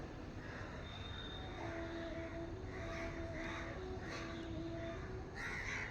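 Crows caw on a sunny morning, a series of rasping calls at irregular intervals over a steady low hum and faint tonal drone, mid-distance, with no talking.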